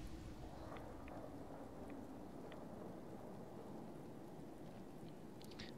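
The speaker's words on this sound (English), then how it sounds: "Radiation storm." Radiation storm in the video game Fallout 4, heard as a steady wash of heavy rain and low rumbling thunder with wind, loud and continuous throughout, with a few faint sharp crackles and no talking.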